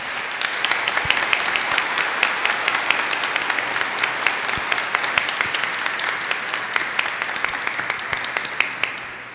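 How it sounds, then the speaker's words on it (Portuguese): A church congregation at a Mass installing two priests gives a long round of applause, dense hand clapping that carries on steadily and fades a little at the end. "Eu gostaria que a gente pudesse saudá-lo, né, com uma grande salva de palmas."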